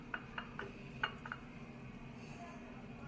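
Khichdi with dill (suva) on a low flame gets its lid set on the pot: a few light metallic clinks and taps close together near the start, then a quiet steady background hum.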